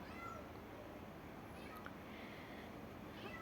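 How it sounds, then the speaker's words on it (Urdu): A pet cat meowing quietly indoors, faint and somewhat distant under low background noise. "اب بھی آپ آواز سنیں یہ کس طرح سے میکس سے میاؤں میاؤں کر رہی ہے"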